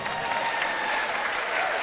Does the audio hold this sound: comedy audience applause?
yes